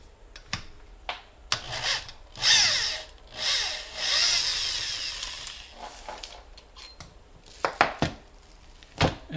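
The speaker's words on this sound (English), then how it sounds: "I'm going to use this on my drill to make it a little bit faster." A power drill works on a 2002 Honda Odyssey automatic transmission during teardown, with bursts of whirring spin-up, grinding runs and sharp metallic clanks and knocks between them, close and fairly loud.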